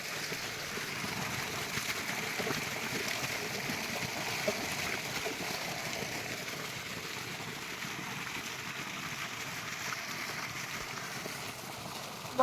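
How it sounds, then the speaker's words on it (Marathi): Water pouring steadily from a pipe in a sugarcane field, a continuous rushing splash that stays fairly faint and even throughout. "चल इथं बघा कसं मस्तपैकी पाणी पडतंय"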